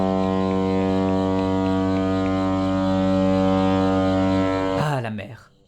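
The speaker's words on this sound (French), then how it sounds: "Et puis pas loin, tu peux entendre la douce sirène d'un ferry." Ferry horn in the video game Grunn, a loud sustained foghorn-like blast with a rich, steady tone lasting nearly five seconds before it stops and fades, with talking at the very end.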